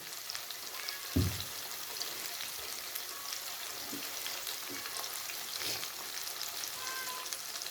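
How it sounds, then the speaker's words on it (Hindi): Fish pieces coated in besan batter, Lahori fish fry style, frying in hot oil with a steady crackling sizzle throughout, one louder burst of spatter early and a few soft stirring knocks, no voices. "पहले इसको हमने लो टू मीडियम में फ्राई करना है, फिर थोड़ा सा हमने इसको हाई कर देना है।"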